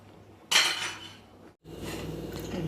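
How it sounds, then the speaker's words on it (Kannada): A metal pressure cooker set down for jeera rice in a home kitchen, one sharp clanking knock followed by a fading ring, then a brief gap and quieter kitchen clatter. "ಜೀರಾ ರೈಸ್ ಮಾಡೋಕೆ ಕುಕ್ಕರ್ ಇಟ್ಟಿದ್ದೀನಿ."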